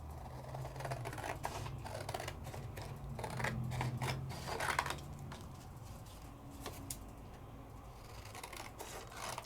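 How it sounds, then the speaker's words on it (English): Scissors snipping by hand through a cardstock mat for a card, a steady run of small crisp cuts at close range with no voices. "Let's go ahead and let's just hand trim this out."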